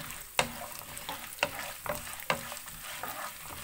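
Peanuts, chana dal and urad dal roasting in a pan over a medium flame, with a steady dry sizzle broken by sharp clicks and scrapes as the mix is stirred, close and fairly quiet.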